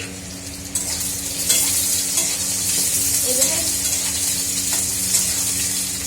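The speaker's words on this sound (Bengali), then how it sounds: "বেগুনটা ভাজা হোক" Loud, constant sizzle of eggplant and potatoes frying in a pan, with stirring scrapes and a brief spoken word at the start.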